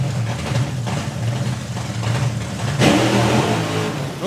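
Drag racing cars rumbling in pre-stage with fuel pumps on full, a loud low engine drone that surges sharply near the end as the revs climb.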